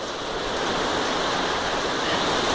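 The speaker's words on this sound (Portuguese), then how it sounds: "Uma Uma chuva. Ai, ai. Olha aqui a água." Heavy rain pours with running water rushing close by, forming a dense, steady hiss that stays loud and unbroken throughout.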